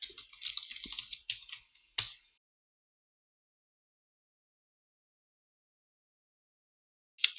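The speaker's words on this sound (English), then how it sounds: "Let's type some random text." Typing on a computer keyboard produces a quick flurry of light clicky keystrokes for about two seconds ending in a sharp tap, then silence until a single click near the end.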